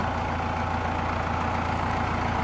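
A 2007 Valtra N121 tractor with a 135-horsepower Sisu engine idles nearby, a steady low rumbling chug that holds evenly throughout with no talking.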